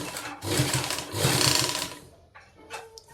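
A sewing machine stitching a zipper onto a jacket, with two close, loud bursts of rapid stitching followed by a brief pause and a couple of shorter spurts.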